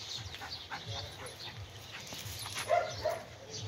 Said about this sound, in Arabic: اهو كلب اهو